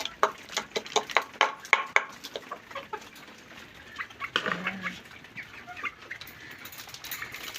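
A bantam chick among poultry, with a burst of rapid close peeps and clucks at the start, then scattered quieter calls over a low farmyard background, with no talking.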